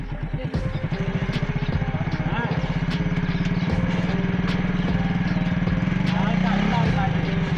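An old 70cc motorcycle engine rigged to drive a chaff cutter runs steadily and close by in an even, buzzing drone that rises slightly toward the end, with people talking over it.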